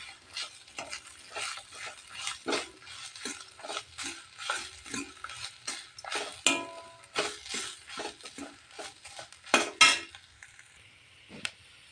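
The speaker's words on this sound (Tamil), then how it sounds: "இப்போது தேங்காய் ஆட் பண்ணி நல்லா ஒரு நிமிஷம் நல்லா வறுத்து எடுத்துக்கலாங்க" Grated coconut roasts in a pan while a spoon scrapes and stirs it in quick, uneven strokes, with soft sizzling and occasional metallic clinks against the pan, close up and with no talking.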